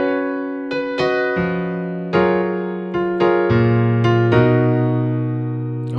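Piano playing part of a song slowly, with a handful of sustained chords and notes struck at a relaxed, uneven pace, close and clear with no talking.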